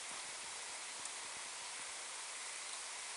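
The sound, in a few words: rain during a thunderstorm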